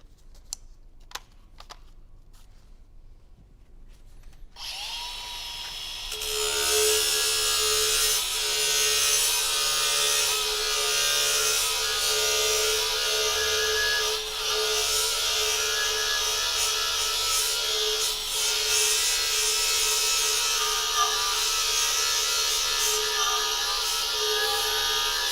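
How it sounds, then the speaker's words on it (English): Variable-speed angle grinder running at about half speed with a Tyrolit CERABOND X disc: a few faint knocks in near silence, then the tool spins up into a steady, harsh, rasping grinding whine that holds for the rest of the time. "an angle grinder with a variable speed, brought back to about half in order to do that"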